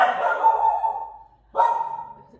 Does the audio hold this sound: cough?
no